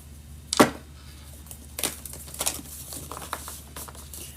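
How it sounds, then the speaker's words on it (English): Tarot cards being shuffled by hand: a sharp riffle burst near the start, then lighter irregular flicks and papery rustles, close and fairly quiet with no talking. "I want to really shuffle these good."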